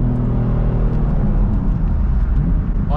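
A BMW M car under hard acceleration, its engine droning loud and steady inside the cabin with a strong low rumble and rising tone, no talk.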